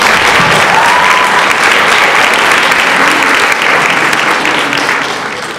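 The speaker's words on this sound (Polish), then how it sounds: "jeszcze raz wielkie brawa dla klasy pierwszej C." Loud, steady applause fills the room for class 1C at a school conference, continuous dense clapping that fades slightly toward the end.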